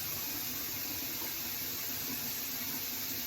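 Lukewarm water runs steadily from a tap into a sink during a face rinse, a soft, even rush that continues unbroken with no voices.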